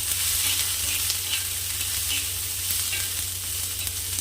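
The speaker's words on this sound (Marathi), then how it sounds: "आता यामध्ये आपण मिरचीला छान असं फिरवून घ्यायचं आहे" Green chilli pieces frying in a spoonful of oil, a continuous close crackling sizzle with light stirring scrapes over a steady low hum from the stove.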